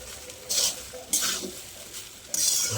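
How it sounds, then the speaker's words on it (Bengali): Fried rice is stirred in a pan, with three distinct scraping, sizzling strokes at an irregular pace over a low background sizzle, close and moderately loud, with no talk. "ভাতটা অল্প অল্প করে দিয়ে একটু নেড়ে চেড়ে নিতে হবে"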